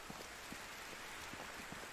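Steady rain falls in the medieval survival game Medieval Dynasty, a dense continuous hiss with scattered soft drop impacts, even and close throughout with no talking.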